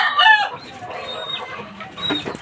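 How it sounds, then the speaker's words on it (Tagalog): Fighting roosters cluck and crow nearby while being moved between cages, with a loud crow at the start followed by softer, scattered clucks and another call near the end. "Ito pinaglilipat-lipat po na yung mga alaga, yung mga manok panabong guys."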